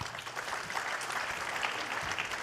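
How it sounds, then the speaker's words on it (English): An audience at a panel discussion gives the panelists a round of applause, a soft, distant, continuous patter of many hands clapping. "May I request also a round of applause for everyone for a very interactive"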